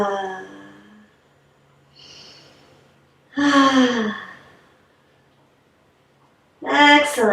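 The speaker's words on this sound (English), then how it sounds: "3 cleansing breaths." Deep cleansing breaths during a yoga class, heard as long audible inhales and exhales with voiced sighing tones, close and fairly loud, with quiet pauses between them.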